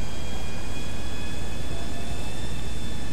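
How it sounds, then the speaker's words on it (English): Loud, continuous roar of an airplane flying in Grand Theft Auto V, a dense broadband rush with a faint high whine over it, steady and close for the whole stretch with no talk. "there might be another plane trying to land here"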